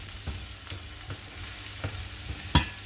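Chopped garlic and cloves fry with mild curry powder in a pan for bobotie, a steady soft sizzle under rhythmic spoon stirs about every half second, ending in one sharper knock.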